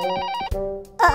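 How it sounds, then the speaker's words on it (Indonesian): A cartoon telephone rings with a bright electronic melodic tone, loud and close, in two bursts separated by a brief pause and no voices. "Telepon berdering."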